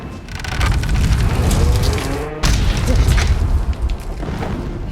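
Blasting explosions in Horizon Zero Dawn rumble and boom heavily throughout, with a sharp break midway before the deep roar resumes.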